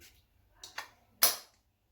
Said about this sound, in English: And I'm going to spray some Bentley on this arm.